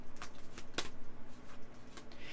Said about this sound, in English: You shuffle these.